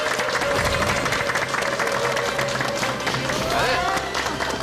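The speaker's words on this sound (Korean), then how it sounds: "박수로 환영해 주십시오." Loud, dense studio audience applause welcoming a guest onto a Korean TV show, continuous clapping with some cheering throughout.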